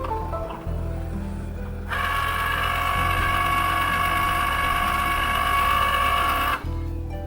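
A Cricut cutting machine runs close by with a steady mechanical whir and a high electronic whine. The sound holds for about five seconds over a low background hum, then stops abruptly.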